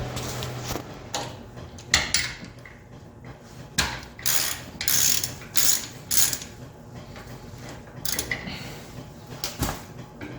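A ratchet wrench clicks in quick irregular bursts while loosening bolts on the PTO of a Ford 8N tractor, close up, with metallic clatters and pauses between runs and no talking.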